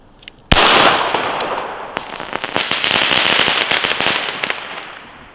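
A blank-firing pistol shoots a crackling pyrotechnic round: one sharp loud report, then several seconds of dense, scattered crackles and pops that fade out.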